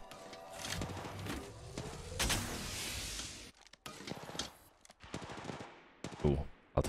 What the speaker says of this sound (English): Who the hell is shooting at me, bro?